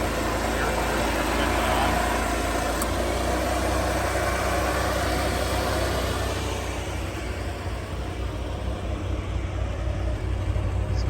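A 1984 Chrysler Fifth Avenue idles steadily, a low, even engine hum close by that runs throughout, with a noisy fan noted.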